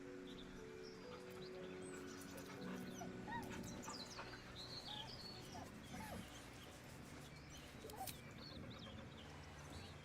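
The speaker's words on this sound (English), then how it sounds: "The dog whimpers nervously," A dog whimpers and whines in Baldur's Gate 3, with soft, uneasy cries that come and go over a steady bed of game music and ambience for about ten seconds.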